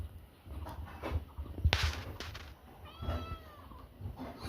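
A cat in a rural village home gives a couple of soft, drawn-out meows, fairly faint and somewhat distant, over low background rustling and room noise.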